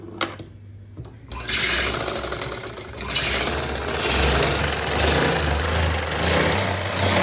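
A sewing machine stitches lace onto a lehenga. After a brief start it settles into a steady, close, continuous whirring run with a busy mechanical chatter.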